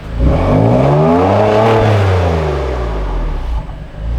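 A cold 2021 BMW M2 CS Coupe engine revs up and sweeps back down in one smooth rise and fall, loud and close, then settles to a steady hum.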